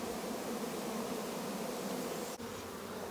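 Large honey bee swarm buzzing loudly and continuously up close, a dense even hum with one brief dip near the end.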